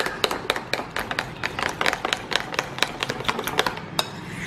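A spoon beats cream cheese and condensed milk together in a bowl, giving a steady run of sharp, close clicks and taps against the sides at a quick, slightly uneven pace.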